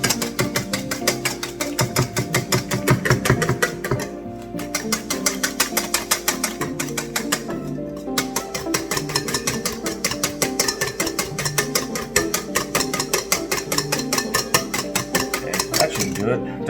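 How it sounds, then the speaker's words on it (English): Pancake batter is whisked hard in a bowl, with fast, regular rattling strokes that repeat evenly for the whole stretch. Two brief pauses break the beating, and the strokes are close and prominent. "we're gonna whisk this vigorously to get it nice and airy"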